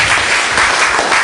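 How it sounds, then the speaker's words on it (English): A crowd of people clapping gently together during a group sound exercise, a steady, dense patter of soft claps filling the room without pauses. "Okay, now clapping gently again."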